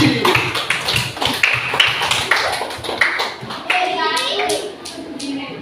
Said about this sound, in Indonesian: Tepuk tangan dulu untuk kelompok Nandi